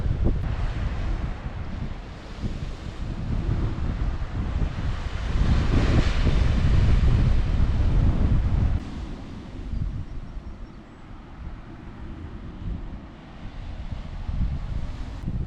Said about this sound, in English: Listen to those waves from the ocean, beautiful.